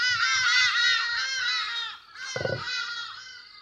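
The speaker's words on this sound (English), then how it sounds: "I hate those birds. They are so noisy." Harsh, raspy crow-like caws overlap in a noisy chorus, loud and continuous, with a brief dip before the cawing resumes.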